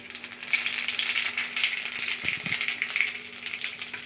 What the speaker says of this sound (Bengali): এবার এই যে কালো জিরে কটা দিয়ে দিচ্ছি